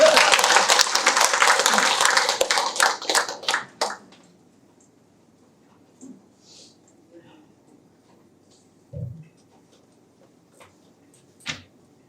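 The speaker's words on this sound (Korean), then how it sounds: "박수 한번 쳐요." A church congregation claps together loudly for about four seconds, the applause thinning into scattered claps, then a quiet room with a few faint knocks and shuffles.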